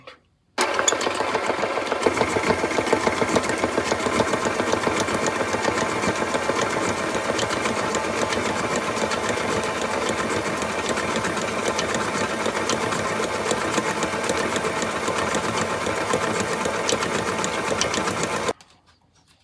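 An electric mixer whirs continuously through white chocolate brownie batter, a steady, buzzing mechanical drone that starts abruptly, runs evenly for about eighteen seconds, then stops.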